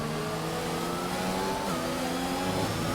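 A Ferrari race car engine on the Hungary circuit in a racing game screams at high revs, a loud, steady, sustained whine with layered harmonics and slight pitch shifts as it accelerates.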